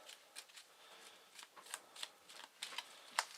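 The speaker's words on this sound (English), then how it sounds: "Quick shuffle." A deck of cards being shuffled quickly for a game of Eldritch Horror, a run of soft riffling bursts and crisp flicks, quiet and close, with no talking.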